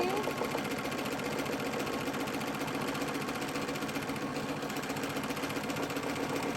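A sewing machine fitted with a free motion foot stitches steadily and continuously, a close, even mechanical whir with a fast rhythmic clatter and no pauses throughout.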